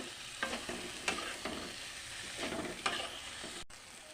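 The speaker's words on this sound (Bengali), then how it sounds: "আলুগুলি রেখেছিলাম দিয়ে দিলাম একটু ভালোভাবে কষে নিয়েছি" Potatoes stir-fried in a pan: a handful of spaced scraping strokes over a faint, steady sizzle, close and quiet.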